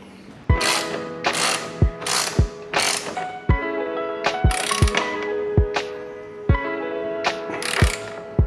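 A ratchet wrench tightening a bolt on a motorcycle gives loud, close, rhythmic metallic clicks in quick bursts, about a dozen strokes with short pauses between them and no talking.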